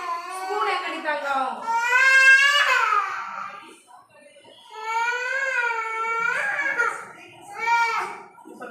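A young child cries and wails in long, rising sobbing bursts close by in a home kitchen, with brief pauses between cries.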